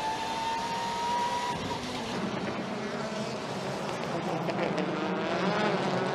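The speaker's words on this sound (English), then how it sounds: "Through the chicane, the yellow car, Tom Coronel, the black car of Rob Huff battling for 8th position." WTCC touring race cars battle through a chicane at Marrakech, their engines whining and buzzing continuously at moderate distance, with commentary talk layered on top.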